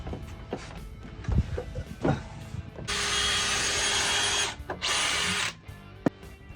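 A power drill drives screws into a campervan's bed frame, giving two long, loud whirring bursts after short knocks and clatter as the screws are set, all close by.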